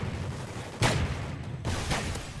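Lynx gun firing in Call of Duty: Ghosts, two heavy broadband bursts close up about a second apart, over a low steady game rumble.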